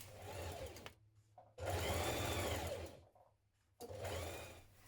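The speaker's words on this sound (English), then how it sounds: "we're going to stitch down this side seam with a 1 centimetre seam" A sewing machine stitches a 1 centimetre side seam on a summer skirt set, running in three close bursts of steady whirring separated by short pauses.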